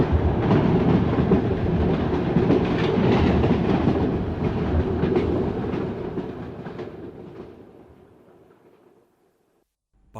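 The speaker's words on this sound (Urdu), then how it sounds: "آئیے ریل گاڑی میں بیٹھیں اور کوئٹے سے کلکتے تک چلیں۔" A train runs on rails with a loud, steady rumble and rhythmic clatter of wheels, holding strong for several seconds before fading away into near silence.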